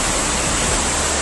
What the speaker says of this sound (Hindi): गलियों में तेज रफ्तार से पानी दौड़ रहा है।